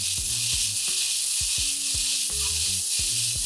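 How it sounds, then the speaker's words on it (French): Homemade gnocchi fry in a pan with a little oil, giving a loud, constant sizzle up close, broken by repeated low knocks and scrapes as the pan is stirred or shaken. "tu vas simplement les laisser colorer comme ça dans la poêle avec un peu d'huile pendant quelques minutes"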